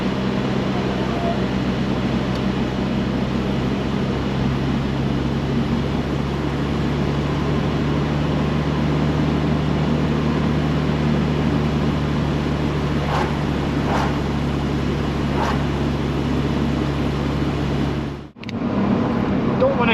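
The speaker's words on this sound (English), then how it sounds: "it doesn't drive too bad considering how long it's been off the road and how poor fettle it's in." A Mk3 Astra Premier, off the road since 2018 and in poor condition, driving along with a steady loud engine drone and road rumble from inside the cabin, dropping off sharply near the end.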